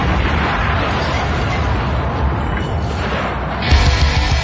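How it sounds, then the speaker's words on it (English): A loud explosion effect played on a radio talk show, with a steady broadband roar across the whole clip and a heavier low-end surge near the end. "blow me up, Tom."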